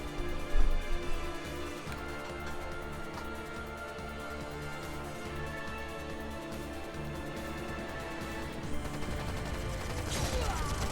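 Game audio from Trails of Cold Steel III with dense music and bursts of rapid gunfire, a sharp volley near the start, then continuous layered combat sounds under the score.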